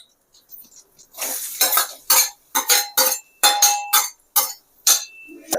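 Onions go into a pan of hot oil with garlic, followed by a series of sharp metallic clinks and scrapes from a spoon stirring against the pan, coming in irregular bursts with short quiet gaps.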